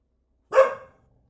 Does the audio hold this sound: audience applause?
no